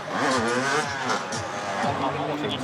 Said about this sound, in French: La moto réapparaît.